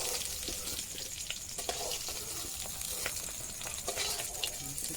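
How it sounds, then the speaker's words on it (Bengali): Fish fries in hot oil, giving a constant dense sizzling hiss close by with small crackles, heard alone without talk. "মাছটা ভাজা হয়ে গেছে, এবারে আমি তুলছি, মাছটা তুলে নেব।"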